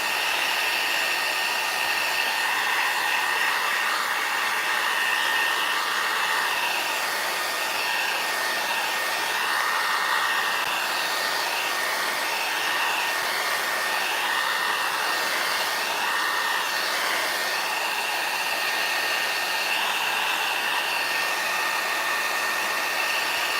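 A hair dryer blows steadily on a decoupaged Easter book cover, a loud continuous whoosh held for over twenty seconds with no talking.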